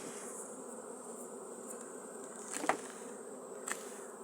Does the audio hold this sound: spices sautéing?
no